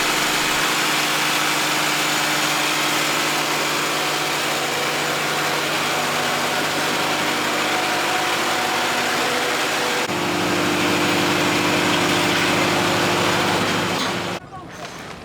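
A ship's engine drones loudly in the engine room of the 58ft tall ship Tenacious, a heavy constant mechanical hum that shifts slightly partway through and drops off near the end.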